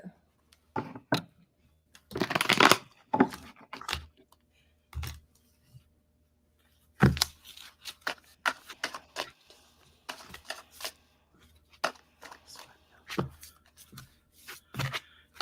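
Playing cards shuffled and thrown down during a tarot-style reading: quiet bursts of riffling and crisp slaps on a table, scattered irregularly with short pauses between.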